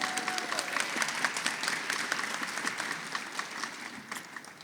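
Audience at a civic awards ceremony breaking into sustained applause, many hands clapping densely from a moderate distance, holding steady and then tapering slightly toward the end.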